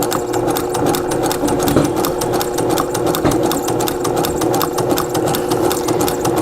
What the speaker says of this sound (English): And I'm going to keep on sewing.